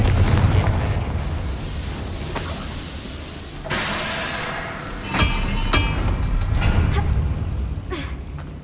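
A Confringo spell goes off in the Hogwarts Legacy video game, bursting into loud, crackling blasts, with a sharp boom near the middle and a few more impacts over a constant roaring game backdrop.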